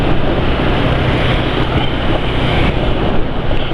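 A motorcycle engine running on US Lube Velo oil, a steady loud idle with a dense, unbroken drone and no talk over it.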